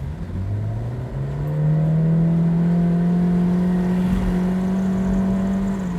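A Honda CR-Z in Sport Plus mode accelerates hard, its engine note rising in a smooth climbing whine that holds loud and close for several seconds.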